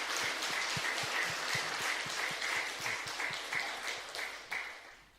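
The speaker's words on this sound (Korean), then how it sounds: "우리 박수로 축복하시고 환영하시겠습니다" Church congregation clapping in welcome for newcomers at a Sunday service, a steady round of many hands at moderate distance with no talk over it.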